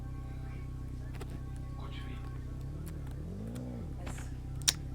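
A car engine in the Roblox game Brookhaven revs once in a short rising and falling sweep as the car is parked in a garage. Quiet voices and background game sounds continue throughout.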